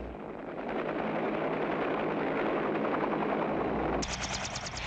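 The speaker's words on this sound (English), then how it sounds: "The troop helicopters of the assault force are moving into the objective landing zones." Military troop helicopters of an assault force flying into landing zones during an exercise, a loud dense rotor thudding and engine roar, with a sharp rapid chopping beat suddenly prominent near the end.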